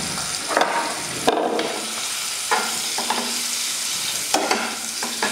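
Halved boiled eggs fry with masala, turmeric and chili powder in a pan for egg biryani, sizzling steadily and close by. Several louder scrapes and knocks of stirring break into the continuous sizzle.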